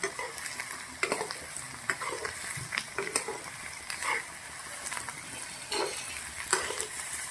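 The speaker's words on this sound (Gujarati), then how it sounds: "ખાંડ નાખ્યા પછી આપણે ત્રણથી ચાર મિનિટ સુધી આવી રીતે દૂધીના અંદર શેકી દેવાની છે" Grated bottle gourd and sugar roast in ghee for doodhi halwa, a steady close sizzle broken by regular scraping strokes of a spoon stirring through the pan, with no voices.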